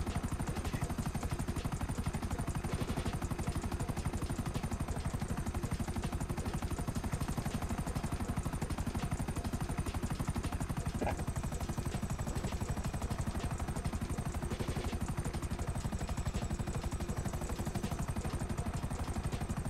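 A helicopter in the video game GTA V drones continuously with a dense, steady rotor and engine roar throughout, broad and unchanging, with no speech.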